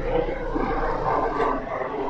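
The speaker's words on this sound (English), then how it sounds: "Helicopter flying above." A continuous droning engine roar of a helicopter flying overhead, steady and fairly loud, with no talking.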